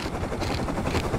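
Video game helicopter with a loud, close, steady rotor thrum lasting just over a second, no talk.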